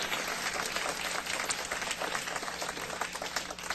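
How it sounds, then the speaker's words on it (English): Applause from the crowd at a New Rochelle State of the City address, a steady even patter of many hands, fairly faint and distant throughout with no talk over it. "please restrain your applause"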